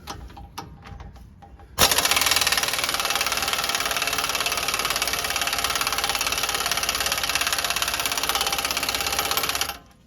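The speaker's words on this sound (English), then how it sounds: "I'm going to see if we can get this gun in there and at least loosen up the bottom one for us" An impact gun works loose Loctite-treated brake caliper bolts on a 2019 Ram 1500, starting after a few faint knocks and hammering continuously and loudly for about eight seconds before stopping abruptly.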